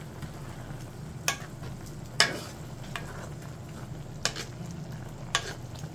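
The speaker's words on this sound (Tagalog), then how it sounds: "Tapos haluin ulit siya." Dinuguan, a pork blood stew, being stirred in a pan, with a low steady simmer and a few sharp spoon scrapes spaced through it, quiet and with no voices.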